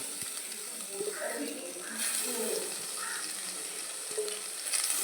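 Small cut sardines drop into a hot pan and fry with a close, steady sizzling hiss that swells and settles, with a few light utensil taps and a voice talking softly underneath.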